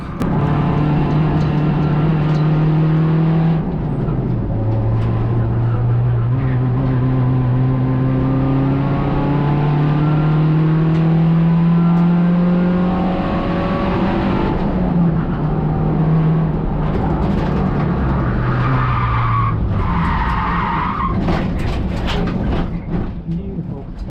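At Blyton Park, a race car's rear end steps out as the driver lifts off the throttle entering a corner too fast, a loud, close engine drone rising and falling in pitch, with a short tyre squeal near the end.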